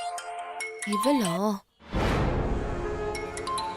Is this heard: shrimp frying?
no